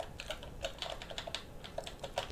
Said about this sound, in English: I'm playing mouse and keyboard, obviously, like I said, so just hopefully it's not too loud for you guys.